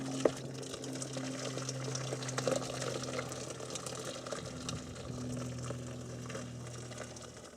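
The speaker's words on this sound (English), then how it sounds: "we need to drain off the water" Pasta cooking water drains from a pot inside a campervan kitchen, a quiet, continuous trickle and pour with a steady low hum in the background.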